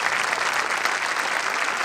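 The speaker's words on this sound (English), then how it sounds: "Let's give Mr. Reason a big round of applause." Audience applause at the Kinkaid School 2018 graduation ceremony, a steady dense wash of many hands clapping at once, close and loud throughout with no gaps.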